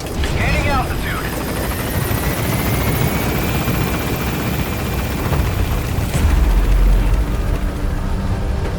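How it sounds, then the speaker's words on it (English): Helicopter in the video game Metal Gear Solid V, a steady loud rotor thrum with turbine whine throughout, with a heavier boom-like swell near the end and a voice talking over it. "Get on the chopper."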